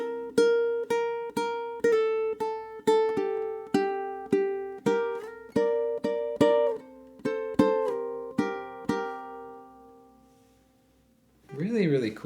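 Two ukuleles play bars 9 and 10 of a theme together, a series of crisp plucked and strummed notes in a steady syncopated rhythm, each fading quickly. A sustained final chord rings out and decays to near silence before a short burst of sound at the end.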